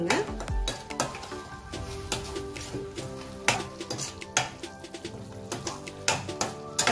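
A spoon stirs curd into paneer gravy sautéing in a pan. Repeated metallic clinks and scrapes against the pan ring out clearly over a soft sizzle, with no voices.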